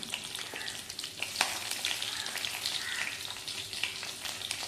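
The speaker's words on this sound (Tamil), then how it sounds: "கொஞ்சம் வதக்கிக்கலாம்" Vegetables sizzle and crackle in a hot pan for bitter gourd curry, with dried and green chillies among them. The frying is steady and fairly quiet, broken by occasional stirring clicks.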